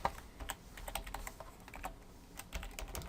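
Fingers type on a computer keyboard while someone enters web code, giving a quiet, uneven run of soft key clicks with short pauses between bursts and no talk.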